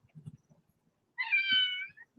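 A cat gives a single clear, drawn-out meow at close range, following a few soft low thumps and rustles in an otherwise quiet room.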